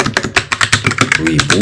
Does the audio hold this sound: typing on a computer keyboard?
yes